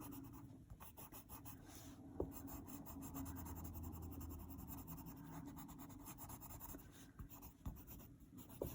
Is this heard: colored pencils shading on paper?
yes